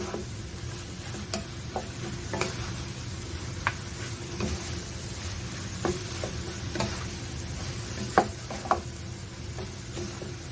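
Spicy octopus stir-fried with cabbage and onion in a pan gives a steady, soft sizzle with scattered sharp ticks and clacks from stirring, fairly close and continuous without any talk.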